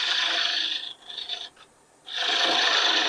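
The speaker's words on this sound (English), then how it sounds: "I'm going to take the parting tool and I'm just going to do the same sort of thing as I did with the skew" A parting tool making a peeling cut on wood spinning on a lathe while turning a snowman, a loud steady rasping scrape that breaks off briefly in the middle and then resumes, heard close and alone.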